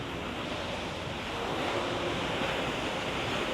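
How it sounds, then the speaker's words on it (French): Artificial waves roll through a wave pool at a residence in Dubai, a continuous broad wash of surging water that swells slightly louder partway through, with no talking. "Piscine à vagues, donc toutes les 10 minutes, il y a des vagues"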